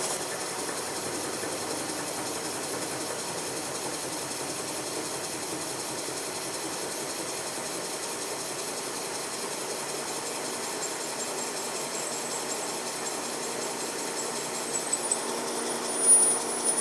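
Slow drill countersinking AR500 plate steel at reduced speed with a high feed, a steady low grinding churn running throughout with a brief louder catch near the end.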